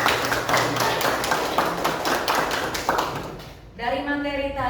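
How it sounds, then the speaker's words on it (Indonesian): A classroom of students clapping hands together, a rapid dense burst of applause that fades out near the end as a voice starts speaking. "tepuk tangan dulu untuk hari ini"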